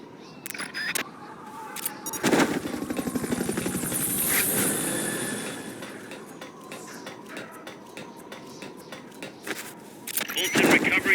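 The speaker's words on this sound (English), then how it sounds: "Fulton recovery helicopter is complete" A Fulton recovery helicopter's rotor drones steadily in Metal Gear Solid: Peace Walker, joined by clattering effects and bursts of game sound, with a voice speaking over it at times.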